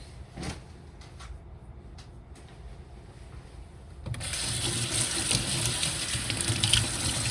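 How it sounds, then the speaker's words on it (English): Peeled potatoes are rinsed under a running kitchen tap, preceded by a few faint knocks and rustles before a steady, close hiss of water starts and continues to the end. "I'm going to discard all this so that I can rinse my potatoes"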